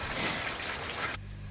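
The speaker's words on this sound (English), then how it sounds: "It's raining rain." Rain falling as a dense, even hiss that stops abruptly near the end, leaving a faint low hum, with no voices.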